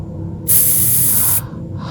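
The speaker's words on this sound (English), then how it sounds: "Oh God, a roach killer, that deadly stuff, that spray." An aerosol can of roach killer spray lets out a single steady hiss lasting about a second, loud and close, with nothing else around it.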